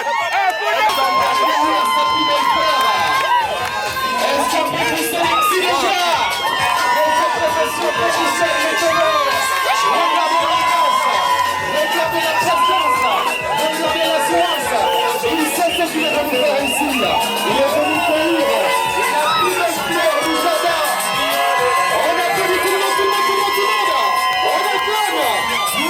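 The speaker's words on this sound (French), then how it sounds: "Positionnez toujours avec les acclamations de la famille." Family members cheer, shout and whoop continuously at a customary wedding in Gabon, a dense and loud crowd with many voices talking and calling over one another throughout.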